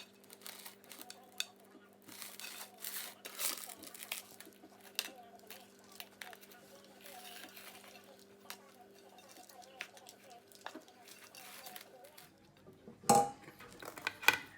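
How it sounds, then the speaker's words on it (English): Chocolate cake batter with sour cream being portioned into baking pans, with faint scattered clinks and soft scrapes of utensils against the pans in a quiet kitchen and a louder clatter near the end. "now we're going to portion our batter out into the pans"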